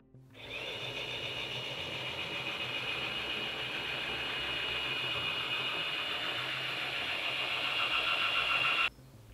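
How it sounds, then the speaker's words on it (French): A Moza Slypod E motorized camera slider whirs in a steady, close electric whine for about eight seconds with no voices, then cuts off abruptly. "je vous fais tout de suite écouter un comparatif du bruit que génère le slider à ces différentes vitesses."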